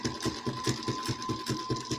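A sewing machine runs steadily at close range, its needle mechanism thumping in a quick even rhythm of about five strokes per second, with no voices over it.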